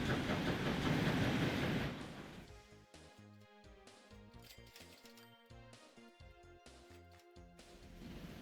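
Train running in the video game Transport Fever 2, with a loud rushing rumble at first that quickly gives way to quieter rhythmic clickety-clack and tonal rail sounds over several seconds, with no talk.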